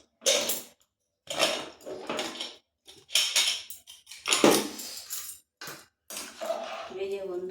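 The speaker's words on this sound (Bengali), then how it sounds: "দেখি এবারে কুকারটা খুলে কতটা সিদ্ধ হয়েছে।" Metal clanks and scrapes from a pressure cooker lid being opened after cooking khichuri on a gas stove, sounding in several short bursts close by, with a voice heard between them.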